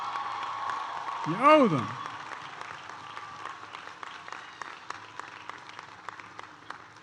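Graduates at a University of Delaware commencement applaud parents in the stands, a broad, distant wash of clapping with scattered claps, briefly under a shouting voice.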